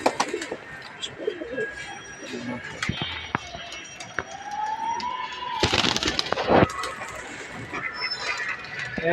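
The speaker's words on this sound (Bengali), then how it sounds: "এখন আমরা একটা কবুতর দেখাবো" Pigeon cooing among a noisy backdrop of chatter-like sounds, clatter and a rising, wavering siren-like tone, with a few sharp bursts in the middle.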